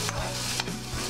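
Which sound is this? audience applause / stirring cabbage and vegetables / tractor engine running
stirring cabbage and vegetables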